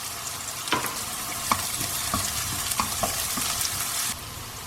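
Onions with a pinch of salt sauté in a pan for sweet and sour pumpkin, a close, continuous sizzle broken by repeated scrapes and taps of stirring, with no talking.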